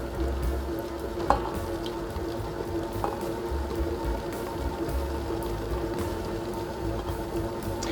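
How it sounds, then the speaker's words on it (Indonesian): Cake batter mixed with cooking oil is slowly stirred, giving a continuous soft wet churning with faint clicks from the bowl. "Aduk pelan."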